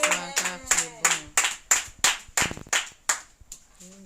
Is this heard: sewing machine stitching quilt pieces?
no